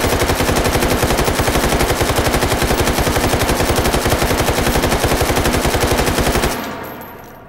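AKS-74U rifle in the VR game Hot Dogs, Horseshoes and Hand Grenades fires one long unbroken full-auto burst of rapid, evenly spaced loud shots lasting over six seconds, then cuts off into a short fading echo.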